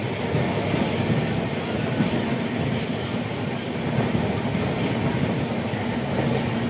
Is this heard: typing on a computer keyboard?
no